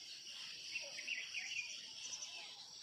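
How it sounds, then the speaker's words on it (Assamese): Birds call faintly in the evening at the edge of a fishery, with soft scattered chirps over a steady, distant insect-like drone and no talking. "এই সন্ধিয়া টাইমত এই ফিচাৰীৰ বাউণ্ডাৰী চৰাইৰ যিটো মাত, এইটো মন বহুত ছেটিছফেকশ্যন কৰায়"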